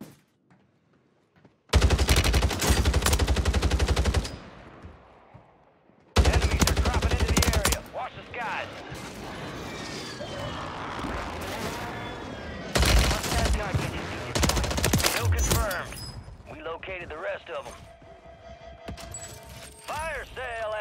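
Striker 9 submachine gun firing in Call of Duty on Rebirth Island: loud rapid automatic bursts, two long sprays and a later string of shots, mixed with game mechanism clatter and other sounds.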